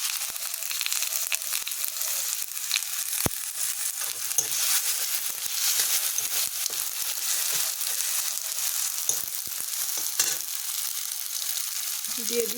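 Tomato frying in a pan with turmeric powder and salt, a steady close sizzle with a few scraping stirs and crackles, and occasional faint talk.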